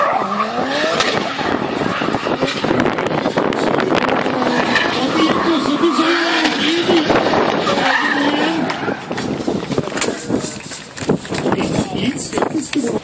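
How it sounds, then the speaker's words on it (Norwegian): Drift race cars with 500 to 800 horsepower engines at a Powerdrift Semi Pro 2014 event, loud continuous engine roar and tire skidding, with an announcer talking over it throughout. "vil dere få høre noen ganske brutale maskiner med både 5, 6, 7 og 800 hestekrefter."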